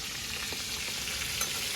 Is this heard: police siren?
no